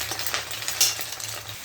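Scrambled egg and potato stir-fried for chowmein, a brief close burst of hissing sizzle with light scraping from the stirring.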